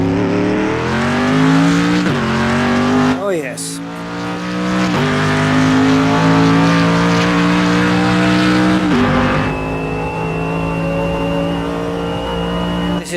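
A Le Mans endurance race car in Automobilista 2 roars from outside, revving hard through repeated upshifts and downshifts with a loud, rising and falling engine tone; a voice briefly speaks.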